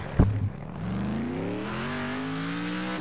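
A car in Next Car Game powers out of a corner after a sharp thump, its engine climbing steadily in pitch as it accelerates hard, loud and close with a harmonic rising whine and no talk.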